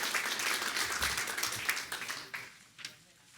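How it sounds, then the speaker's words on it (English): Applause fills a school board meeting room, fairly faint and distant, dense at first and then thinning into a few scattered claps as it dies away. "give another round of applause to all of our amazing students and the Si Se Puede winners"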